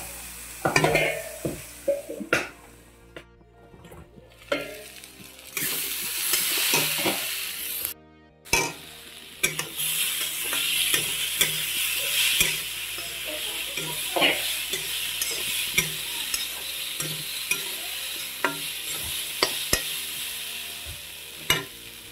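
Masoor dal tadka being stirred in a pan as it fries, a steady sizzle running under repeated scraping and knocking strokes of a spoon, close and fairly loud, with no one speaking.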